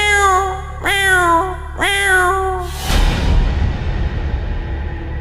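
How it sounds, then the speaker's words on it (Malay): A cat meows three times in quick succession, each call clear, loud and close with a rising-falling whine, before giving way to a low rumbling background hiss. "Saya dengar sekali lagi bunyi kucing tu muncul."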